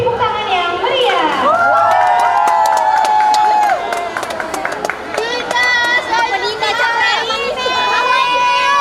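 Students at a high school dance exam performance in Palembang cheer and shout loudly for the dancers. Excited voices rise and overlap close by, with scattered claps mixed in among the crowd noise.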